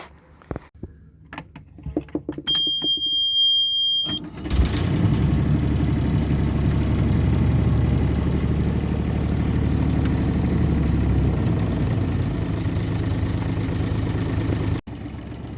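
A sailboat's inboard engine at a yacht club cranks and catches after a few seconds of quiet clicks and beeps. It then settles into a loud, steady idle that runs on without a break.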